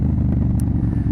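A Yamaha FZ07 motorcycle fitted with a cheap aftermarket eBay exhaust gives a brief, loud, deep engine rumble up close, with no talking.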